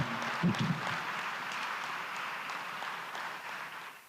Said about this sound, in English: a round of applause for Mr. Frank